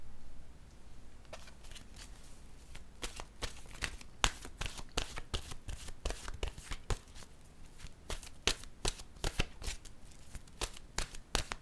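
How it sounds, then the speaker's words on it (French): Oracle cards are shuffled by hand and set down, a series of close, crisp flicks and riffles in uneven bursts, soft and near in a quiet room with no one speaking. "Je vais déposer une carte."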